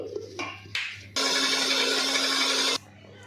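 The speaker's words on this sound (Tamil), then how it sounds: "நைஸாக அரைக்கணும். அரைக்க போகிறேன்." Short bursts of handling noise, then a mixer grinder grinding ingredients with cardamom whirs loudly for about a second and a half before cutting off.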